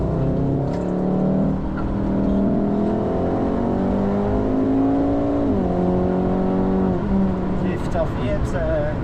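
A car on a Nürburgring Nordschleife trackday accelerates hard after braking, its engine note climbing steadily through the revs, loud and close from inside the cabin, with a brief dip at a gear change.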